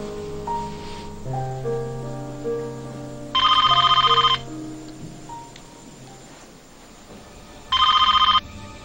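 A telephone rings in two loud, close bursts of electronic trilling, each about a second long, set against a soft background music score.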